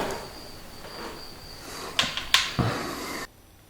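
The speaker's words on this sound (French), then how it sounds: "On pouvait entendre quelques oiseaux et les grillons qui chantaient." A thin, steady cricket chirp hangs over a quiet background inside an abandoned building, with a few sharp knocks and clicks toward the end before it cuts off.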